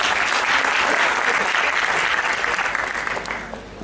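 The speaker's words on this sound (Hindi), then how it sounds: "एक बार साउंड वाले को तालियां दोस्तों" An audience claps for the sound technician at a motivational talk for homoeopaths, giving dense, steady applause that fills the room and then fades slightly toward the end.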